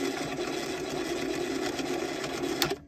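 A wood lathe spins steadily while a block of Corian is trued up, giving a continuous close whirring hum with a brief sharper scrape near the end before the motor noise cuts off.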